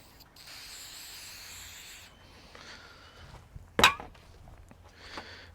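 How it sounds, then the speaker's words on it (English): Lubricant sprayed onto the ends of wiring cables during a Mitsubishi Pajero Sport accessory harness installation, a single short, loud hissing burst standing out from faint handling and rustling noises. "So I'm just going to spray that away from the vehicle."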